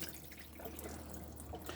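Water running from the hot side of a tap in a 2016 Bailey Unicorn Valencia caravan, a faint steady hiss of flow over a low background hum.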